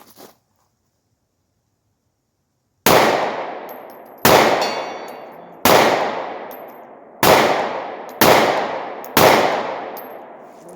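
Six loud, sharp pistol shots from a Glock G43 fired at a small target 65 yards away on an outdoor range, spaced about a second or so apart, each ringing out with a long decaying echo after a silent opening.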